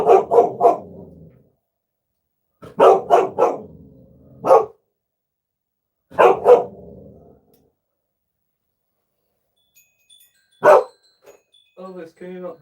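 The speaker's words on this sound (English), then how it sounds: "can you not bark on stream, please?" A dog barks indoors during a motorcycle repair session, short bursts of two or three loud close barks repeating with pauses, followed by a lone bark and a few softer yips.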